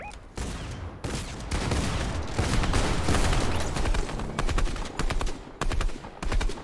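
Rapid bursts of automatic gunfire from a video game arena match roll on almost continuously, dense and loud, with brief gaps between volleys.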